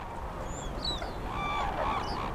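Red-crowned cranes in snowy Japanese countryside give a series of high, honking, trumpet-like calls, several overlapping cries over a steady wash of background noise.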